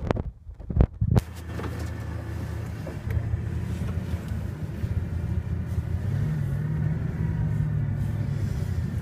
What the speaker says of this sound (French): Donc on va essayer donc la Bugatti de nuit